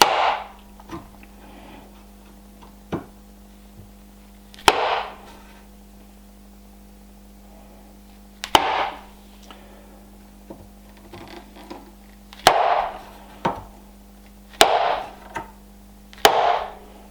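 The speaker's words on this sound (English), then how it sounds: "here I'm trying to find another angle with the chisel" Hand chisel striking into wood to cut a mortise for a traditional mortise-and-tenon joint on a Viking-style bed, heard as sharp isolated knocks and clusters of strikes spaced a few seconds apart over a steady background hum.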